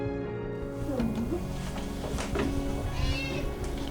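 A cat meows several times at a farmhouse at a frontier-culture museum, with short rising and falling calls over steady outdoor background noise and a faint voice nearby.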